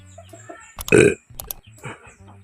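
A hen kept alone in a pen clucks and grunts in short, close bursts, with one louder squawking burst in the middle and softer clucks around it, no talk.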